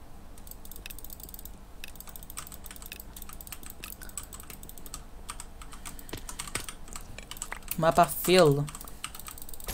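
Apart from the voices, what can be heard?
computer keyboard clicks while playing CubeCraft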